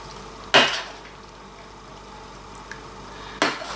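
A spoon scrapes and clanks twice against a pot while garlic, bay leaves and whole peppercorns are stirred into beef adobo with gata, sharp strokes separated by a quiet simmering gap.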